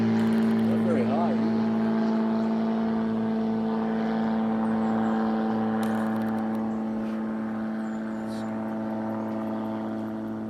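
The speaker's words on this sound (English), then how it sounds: "It's a pretty good size plane." A fairly large propeller plane flies low overhead, its steady droning engine hum loud and sustained throughout, slowly fading toward the end, while people talk faintly underneath.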